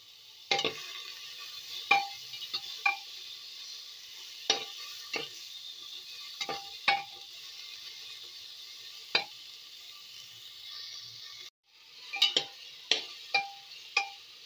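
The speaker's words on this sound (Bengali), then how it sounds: "পেঁয়াজটাকে 1 মিনিট মতো একটু নেড়েচেড়ে নিয়ে" Chopped onion with a bay leaf is stirred in a pot during mutton soup cooking, giving intermittent scraping clinks of the spoon over a soft, steady sizzle, with a short pause before a quicker run of stirs.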